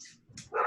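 A dog gives a few short, fairly faint barks in the background of a home setting with no speech over them, while a delivery package is being dropped off at the door.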